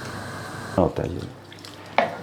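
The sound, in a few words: stirring bhindi gosht mixture in a pot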